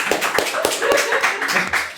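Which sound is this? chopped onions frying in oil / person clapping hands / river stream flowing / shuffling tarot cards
person clapping hands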